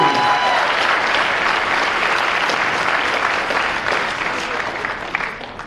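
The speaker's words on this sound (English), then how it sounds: "One last round of applause" A crowd at a high school boys basketball game applauds steadily, dense clapping filling the gym and gradually tapering off toward the end.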